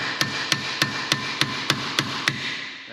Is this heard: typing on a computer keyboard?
no